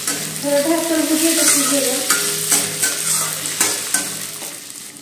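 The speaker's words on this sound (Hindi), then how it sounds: "शिमला मिर्च को भी थोड़ा सा भूनेंगे हम प्याज के साथ।" Chopped capsicum and onion frying together in a pan, stirred with a spatula that scrapes and clicks over a continuous close sizzle, with no one talking.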